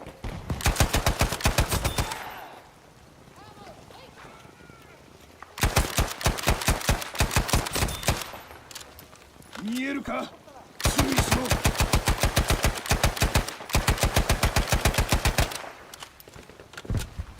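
Rapid automatic gunfire from a shooter video game crackles in long sustained bursts separated by short pauses, loud and close, with a brief voice or effect sound between volleys.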